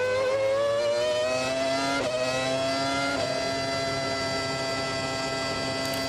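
Formula 1 cars racing in qualifying at Spa in Belgium, a loud, steady high-pitched engine whine that holds and shifts slightly in pitch, with no speech.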